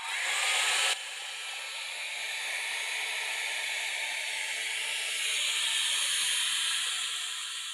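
A heat gun or hair dryer blows over wet blue acrylic paint to dry it. The rushing, hissing airflow runs continuously and fairly close, with a brief louder burst at the start that then settles into a steady stream.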